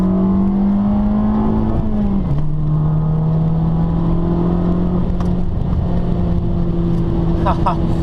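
A 2013 Fiat 500 Abarth's engine hums steadily from inside the cabin while driving, its pitch dipping sharply at a gear shift and then holding a steady drone, with a few small clicks near the end.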